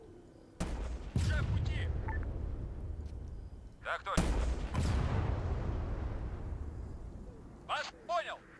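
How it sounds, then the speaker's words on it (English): Heavy gunfire and explosions erupt in a military video game, with two loud booming blasts followed by long rumbling decays, while a voice speaks short radio-style lines in between. "Now we're reacting to gunfire."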